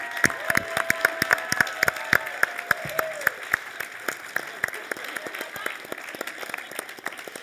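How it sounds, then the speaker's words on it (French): A studio audience applauds for Laurie's birthday on a Quebec talk show, steady clapping with scattered cheers, a voice speaking briefly at the start before the clapping carries on and gradually thins. "On peut applaudir Laurie que c'est sa fête!"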